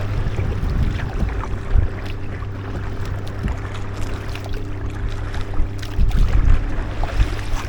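An Aqua Marina Halve inflatable kayak riding through a weir on the River Trent, with steady rushing water and loud wind buffeting the microphone throughout, swelling slightly near the end.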